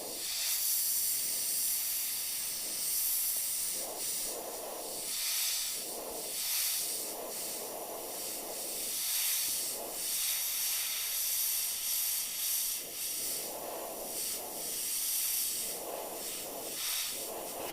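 An airbrush sprays paint onto a Pathfinder skeleton knight miniature, a continuous close hiss that swells and eases in gentle pulses as the trigger is worked, with no talking.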